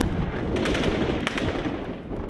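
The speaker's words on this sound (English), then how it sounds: "The Gaddafi troops inside the city are supported by intense shelling from those camped on the outskirts." Battle in Libya between Gaddafi troops and rebels, with dense gunfire and shelling: a continuous rumbling barrage with sharp bursts cracking through, loud and unbroken throughout.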